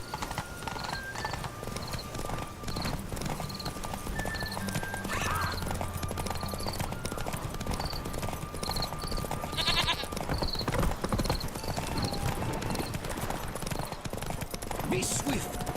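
Hoofbeats of Roach, Geralt's horse in The Witcher 3: Hearts of Stone, clip-clop steadily at full gallop under game music, with a brief whinny and a voice urging the mount on.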